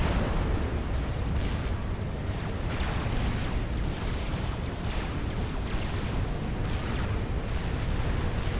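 Oblivion turret fire raking units in a Supreme Commander Forged Alliance Forever 2v2 match, a dense continuous barrage of booming artillery blasts and bursts rolling on for several seconds without pause.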